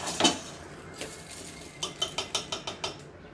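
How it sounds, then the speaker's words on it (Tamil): Cooked popcorn strained with metal utensils, heard as a sharp clink followed by a quick series of light, rhythmic scraping and tapping of metal on a pan, fairly close but quiet. "இதை இப்போ வடிகட்டி எடுத்துக்கலாம்."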